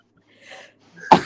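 A single close, loud sneeze from a person, with a soft intake breath a moment before and the burst arriving at the very end.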